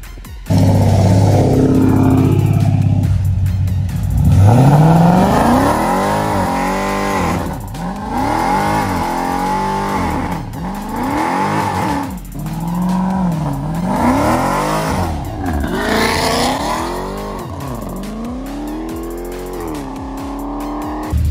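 A loud cammed Chevrolet Camaro SS 1LE engine revs hard in repeated sharp bursts on a two-step launch control, climbing and dropping, with popping and a brief tire squeal, close by.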